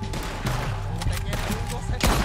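Repeated gunshots ring out in Red Dead Redemption 2, a series of sharp cracks spaced irregularly over a couple of seconds, with a heavier, louder blast at the end, all close up in a busy shootout.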